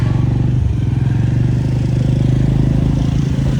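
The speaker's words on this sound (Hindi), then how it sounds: "ऊबर बाइक आ गई है." A motorcycle used as an app-booked bike taxi idles close by, a steady low engine rumble with slight clatter and no clear revving, running continuously throughout.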